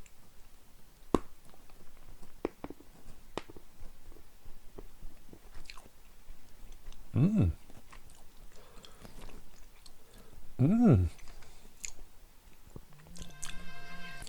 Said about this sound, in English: I'm going to have a bit now. So there you go. This is my first ever Norwegian chocolate.